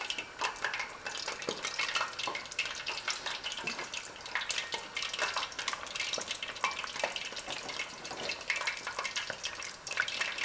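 Chicken wings for crispy buffalo wings fry in a pan, giving a steady, fairly quiet broadband sizzle with faint crackles throughout, no voices.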